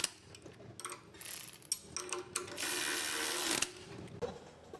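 A hand ratchet clicks in short uneven bursts, then one longer run of rapid ratcheting, while snugging up engine mount bolts in a workshop; close and fairly loud with no voices.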